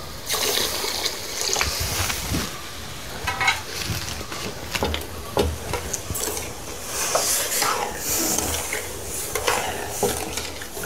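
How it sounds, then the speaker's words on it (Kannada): Water is poured into a pan of sugar syrup, one kilo of sugar, for rava burfi, giving a sloshing splash with stirring scrapes and clinks of cookware, fairly close and without talk. "ಸ್ವಲ್ಪ ನೀರು ಹಾಕ್ತಾ ಇದ್ದೇನೆ"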